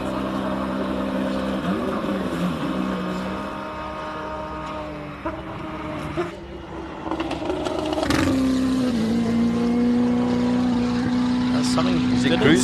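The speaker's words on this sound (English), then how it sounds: "Here goes Darby Hubert in the Lotus with the Ferrari 488 engine inside of it." A Lotus race car with a Ferrari 488 engine revs and accelerates through the gears at a hill climb, a loud, rising mechanical roar with shifting pitch, close and steady throughout.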